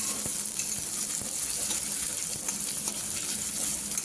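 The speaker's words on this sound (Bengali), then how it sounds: "রসুন পেঁয়াজ খুব ভালোভাবে ভেজে নিতে হবে" Garlic and onion sizzle steadily in hot oil in a pan, a dense close crackle with occasional stirring clicks.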